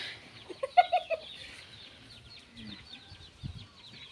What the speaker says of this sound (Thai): บรรยากาศบ้านๆมีเสียงไก่เสียงนกเสียงอันนั้นเนาะค่ะ